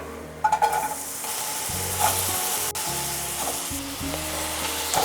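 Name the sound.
onions sautéing in hot coconut oil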